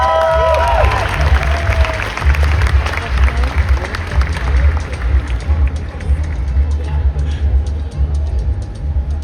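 A large crowd at a concert roaring and clapping in a continuous loud wash of cheers and applause, with a booming low rumble underneath and a voice briefly audible above it at the start.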